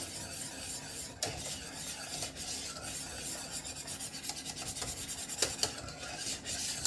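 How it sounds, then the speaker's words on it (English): Chocolate pie pudding filling stirred constantly in a pot on the stove, with continuous close scraping and rasping of the spoon against the pot and a few sharper clinks. "Stir it constantly"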